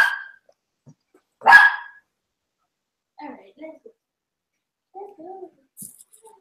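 A dog barks twice in sharp, loud bursts, the second stronger, followed by quiet stretches where a person speaks softly in the background.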